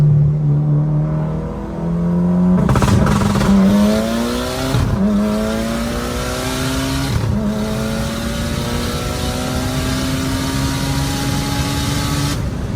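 A Mitsubishi Evo 9 with a tuned turbo engine and rolling anti-lag revs hard and near, its pitch climbing in long sweeps after a few sharp blips and crackles, the note holding loud and steady to the end.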